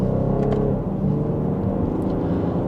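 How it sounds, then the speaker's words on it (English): 2026 BMW X5 xDrive40i accelerating in sport mode from second gear under paddle shifting, a steady, fairly subdued engine drone and rising whir heard from inside the cabin, no talk. "And just a minor acceleration, not all that loud, even in sport mode"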